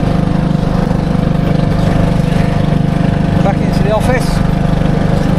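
A lawn mower engine drones steadily and loudly throughout, close by and unbroken, while someone talks over it.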